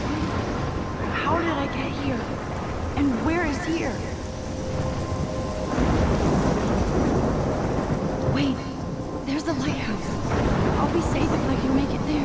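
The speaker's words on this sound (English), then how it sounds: "I'm trapped in a storm." Thunderstorm in the Life is Strange video game: rolling thunder and a steady wash of rain, loud and continuous, with a voice talking over much of it.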